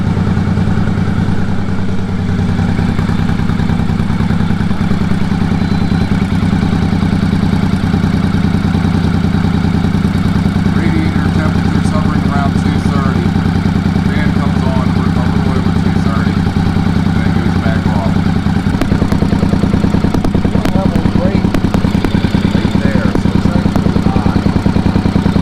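A 1983 Honda Shadow 750 motorcycle engine idles steadily at close range, a low continuous rumble with faint clatter, and brief mechanical ticks toward the end.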